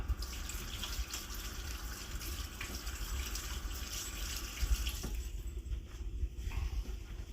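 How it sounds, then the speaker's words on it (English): Tap water runs steadily into a sink while hands are washed beneath it during an outdoor kettle-grill smoking session, a continuous close splashing hiss that thins out briefly near the end. "Let me wash my hands right quick."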